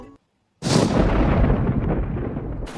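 After a short silence, a loud rumbling boom of thunder bursts in and rolls on, slowly fading but still heavy at the end.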